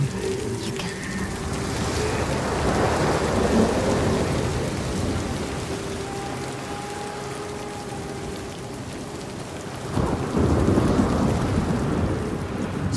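A thunderstorm brought by the sea giant in Hellblade II, with steady heavy rain pouring across a settlement and deep rumbling thunder rolling through, swelling midway and again near the end, alone without voices.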